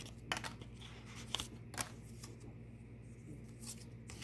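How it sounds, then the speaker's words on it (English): Quick riffling bursts of a card deck being shuffled, a few crisp flurries close by over a steady low hum. "I'll just shuffle them again."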